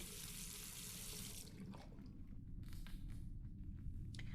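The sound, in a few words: water rinsing a photographic plate in a video game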